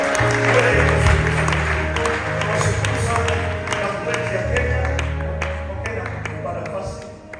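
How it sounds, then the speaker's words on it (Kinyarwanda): A church congregation applauds, with sustained clapping blended with a loud, tonal musical backing and a voice in the mix. "Dushimire leta ya Kenya tuyikomera amashyi menshi cyane"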